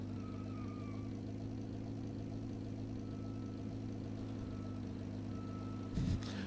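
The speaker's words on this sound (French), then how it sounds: "Mais j'avoue que le bruit de tracteur c'est un peu abusé je trouve." Car engine in the Mantis Burn Racing video game with a low, tractor-like rumble, a steady droning hum throughout and a brief burst of louder noise near the end.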